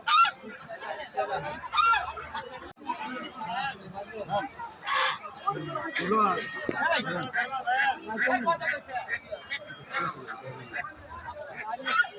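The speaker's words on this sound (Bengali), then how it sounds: "চীনা হাঁস।" Chinese geese honk repeatedly at a busy old village market, loud nasal calls in quick irregular bursts close by, mixed with constant crowd chatter and people talking nearby.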